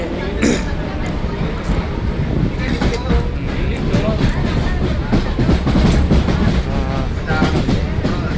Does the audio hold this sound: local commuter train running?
yes